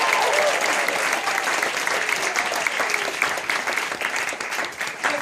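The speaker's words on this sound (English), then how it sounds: "thunderous applause" Thunderous audience applause at a Tamaki Village traditional song performance, a dense, loud wash of many clapping hands sustained for about five seconds with a few louder claps standing out.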